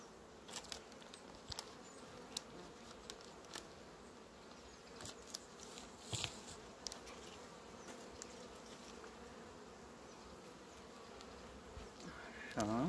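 Honeybees hum in a steady, continuous drone around a hive on a fine spring day, with occasional closer buzzing passes and faint handling noises underneath.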